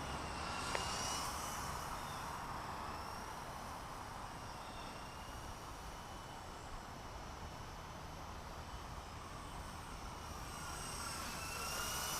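A Blade 120 S2 RC model helicopter flies outdoors, a steady high-pitched rotor whine and motor drone holding for several seconds and swelling slightly near the end as it passes closer, with no talk.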